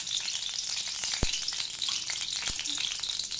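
Oil heats in a hot pan for tomato rice, making a bright, steady hiss and sizzle up close, broken by a couple of sharp clicks.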